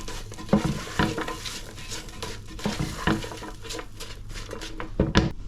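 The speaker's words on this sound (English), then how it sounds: "Let's give it a stir." Fried spring onions and garlic stirred in a pan, with a continuous sizzle broken by repeated loud scrapes and knocks of the utensil against the pan, close and with no talking.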